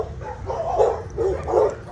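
Dogs at a boarding kennel near Castle Hills bark in repeated loud bursts, a few rough woofs rising and falling over a couple of seconds, fairly close with no speech.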